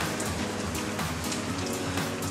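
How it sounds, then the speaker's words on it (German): Steady, dense rain falling on a morning in Thailand, a continuous close hiss of drops with no voices over it. "Es regnet"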